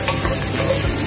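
Chopped onions and ginger fry in a hot pan, giving a loud, close, continuous sizzle with faint stirring and no speech.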